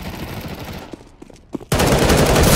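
Gunfire in the game CS:GO, starting with a few scattered sharp shots, then a sudden loud, dense burst of sustained rapid fire filling the last second, with no talk over it.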